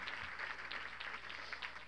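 Applause from a congregation at a Catholic church service in Tzucubal, Nahualá, a steady dense patter of clapping holding even throughout without a break.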